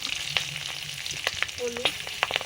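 Whole cumin, dried chilli and bay leaf hit hot oil for a tempering, giving a steady close sizzle with sharp crackles and pops scattered over it.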